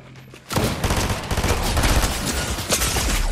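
Gunfire in Fortnite Zero Build on PlayStation 5 erupts after a quiet half-second into a dense, loud, sustained burst of rapid shots, with near and distant cracks overlapping.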